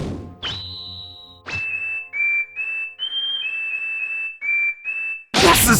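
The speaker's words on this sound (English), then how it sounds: "the frequency of a whistle is as unbearable as a million nails scratching on a chalkboard" Shrill high-pitched whistle blown in a series of sustained notes, first one long tone, then a run of shorter blasts at slightly shifting pitches separated by brief gaps, loud and close, ending in a sudden burst of noise.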